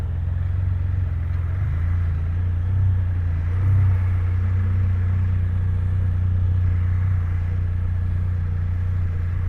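A motor trike engine rumbles steadily at low revs as it pulls away in gear, a close, even droning hum with slight swells and no talk.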